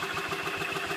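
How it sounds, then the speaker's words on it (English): Club Car Pioneer 1200 utility vehicle with a 400cc Kawasaki gas engine, running at a steady idle with an even, rapid pulsing chug, heard up close for a brief moment. "400cc Kawasaki motor."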